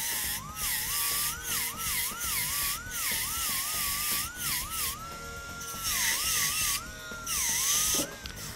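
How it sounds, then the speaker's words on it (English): An ultrasonic polisher fitted with a radial bristle attachment gives a steady high-pitched whine that wavers and dips as it works the surface, fairly loud and close, with brief breaks in the grinding. "by going over this with the radial bristle, this is going to make this job a lot easier to polish"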